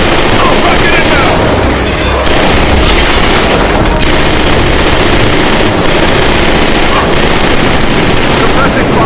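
Sustained heavy gunfire in the first-person shooter Killzone 3 during the Stahl Arms infiltration, loud and continuous machine-gun bursts with booming impacts throughout, shouted voices mixed under the din.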